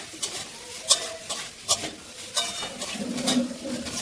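Vegetables fry and are stirred in a pan while cooking sabudana, with a steady sizzle broken by a few sharp scrapes and clinks of the spoon against the pan.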